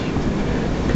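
Train cars rolling in the Derail Valley railway game, a loud, dense rumbling roll heard up close, steady across a very short moment with no talking.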